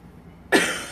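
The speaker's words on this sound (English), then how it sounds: "Gotta bear with my coughing too." A single sharp, close cough bursts out after a moment of quiet, from a person partway through a smokey eye makeup tutorial, its noisy tail fading over the following half second.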